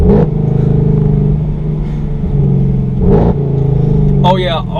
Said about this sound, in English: Man, listen to the downshifts.